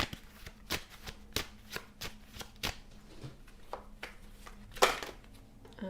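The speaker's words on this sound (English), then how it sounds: "let's pull a few more cards" Tarot cards being shuffled by hand, a run of crisp riffling bursts at an irregular rhythm with one sharper snap near the end, close and alone with no talking.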